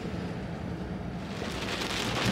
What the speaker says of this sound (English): the rain came. It's raining now.